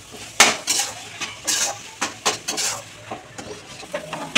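A utensil scrapes and knocks in a pan as grated coconut filling for patishapta pitha is stirred, giving irregular metallic clinks and scrapes that come close and fairly loud.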